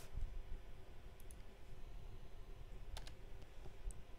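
A few computer keyboard keys tapped to type a number into an After Effects keyframe field, quiet, sparse clicks over a low steady room hum.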